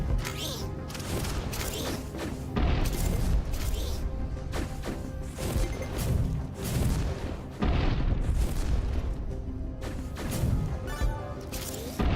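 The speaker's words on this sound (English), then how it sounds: "More missile cruisers inbound." Missile explosions in Infinifactory, a dense run of loud, booming blasts and crashing impacts rolling one after another, heard alone.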